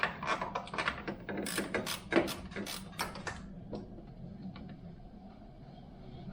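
Ratcheting wrench loosening bracket bolts during an ARB compressor install on an overland vehicle, a run of quick close metallic clicks in short bursts that fade to quieter room tone.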